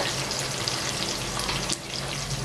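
Onions frying in a pan give a steady, close sizzle with a watery crackle throughout, a brief dip partway through, and no talking.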